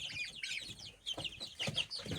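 Many small Brahma chicks cheep and peep together under a heat lamp in a busy, high-pitched chorus, close and fairly faint, with no talking.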